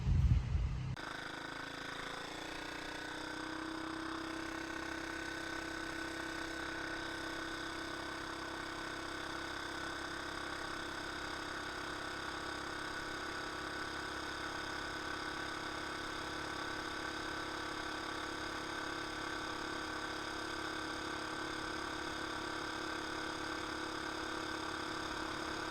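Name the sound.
homemade three-wheeler engine on first test drive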